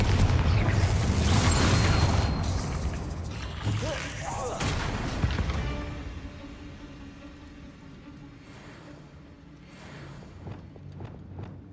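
Spell blasts in Hogwarts Legacy, heavy booming explosions and bursts rolling loudly through a chaotic fight, then fading into lighter pops and crackles, with speech mixed in.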